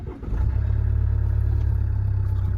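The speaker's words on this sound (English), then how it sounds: "Just start the car up." A 2.2-litre SD4 diesel engine in a Range Rover Evoque fires up with a brief crank, then settles into a loud, steady, low clattering idle close by.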